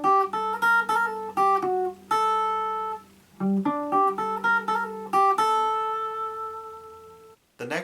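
Guitar riff section played back cleanly: a run of plucked, ringing notes in a steady rhythm with sustained tones and chord-like clusters, close and clear, with no talking.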